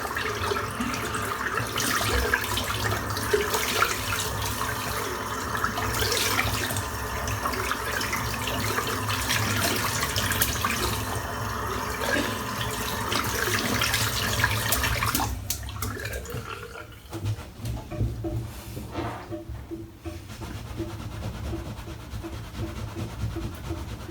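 Shaving brush rinsed under a running tap, a steady close hiss of water splashing into a sink that goes on throughout, thinning and changing tone toward the end, with no talk.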